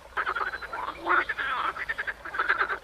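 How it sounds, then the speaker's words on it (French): A close, dense chorus of frogs croaking in rapid, pulsing trills around a water basin near a ravine, continuous throughout and moderately loud. "Rien qu'un petit grenouille."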